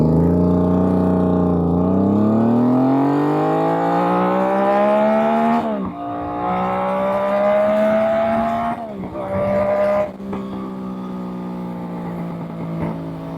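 A 2024 Yamaha MT-09 motorcycle accelerates hard through the gears, its engine note climbing steadily. Quick shift breaks interrupt the rising whine before it pulls on, loud and close, with wind rushing underneath.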